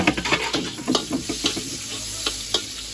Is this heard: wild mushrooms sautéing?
yes